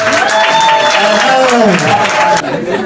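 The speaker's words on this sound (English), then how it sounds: "Women, clap for ourselves." A crowd of women applauds for themselves at a contest, a dense steady patter of clapping mixed with loud voices calling out over it, cutting off sharply near the end.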